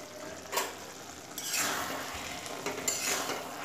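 A spoon stirs a Bengali potato and yardlong bean curry in a pan after the lid comes off. It gives a few scraping clinks, with a soft sizzle underneath that grows louder midway. The sound is close and moderately quiet.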